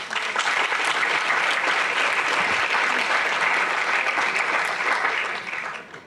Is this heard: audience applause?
yes